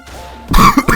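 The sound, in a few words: coughing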